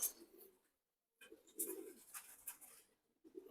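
A female Chila pigeon coos softly in a few short, breathy bursts, close by, with brief silent gaps between them.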